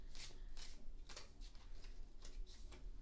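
A tarot deck is shuffled close by in quiet, repeated bursts of papery riffling and soft card slaps, about eight of them in an uneven rhythm with no talk over them.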